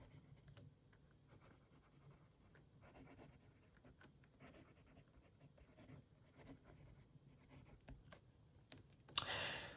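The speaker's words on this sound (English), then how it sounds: "Let's do some writing." An Asvine P30 fountain pen scratches softly across paper in close, quiet strokes and short pauses, with a brief louder rustle near the end.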